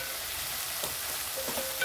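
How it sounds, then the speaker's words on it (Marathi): Crushed green chili thecha sizzles and crackles steadily as it is sautéed in hot oil tempering for a coriander gram-flour zunka, a close, even frying hiss with no talking. "हा ठेचा खूप छान असा खमंग परतून घ्यायचा फोडणीमध्ये।"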